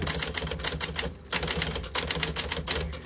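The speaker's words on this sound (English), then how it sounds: "When you're typing," Keys on a manual typewriter clack in quick, uneven bursts close by, with a brief pause partway through before the typing picks up again.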